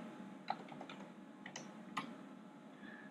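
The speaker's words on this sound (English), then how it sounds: "I'm going to enter the command monitor and I'm going to type in HINV." Sparse keystrokes on an SGI Tezro workstation keyboard while entering a command at the command monitor, a few light, quiet clicks spread over a faint steady hum.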